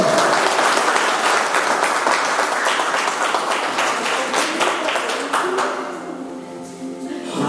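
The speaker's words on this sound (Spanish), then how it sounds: "Un aplauso pues para el Señor." A church congregation claps together in dense, steady applause that holds strong for several seconds, then thins and fades toward the end, close and loud.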